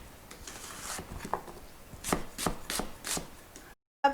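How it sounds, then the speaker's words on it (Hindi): Knife slicing green chilies on a cutting board: a series of crisp, close chopping taps in an irregular rhythm, about eight cuts, moderately loud with no talk over them. "अब हम हरी मिर्चों के स्लाइसेस करते हैं, बहुत बारीक नहीं"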